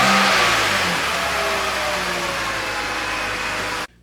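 A 2004 BMW 325i with its stock exhaust, before a header install, revving loud and close outdoors in cold weather, the engine note sweeping up and down before cutting off abruptly near the end.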